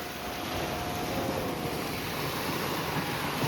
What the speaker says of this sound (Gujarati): જો અમારી બોટ આવે ઓરેન્જ કલરની અમારે એ બોટમાં જવાનું છે